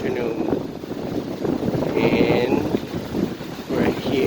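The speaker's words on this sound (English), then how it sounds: "It's a cold and windy afternoon" Strong wind buffeting the microphone on a cold, windy afternoon at Alamitos Beach overlooking San Pedro Bay in Long Beach, a loud, gusty rumble throughout, partly under a man's speech.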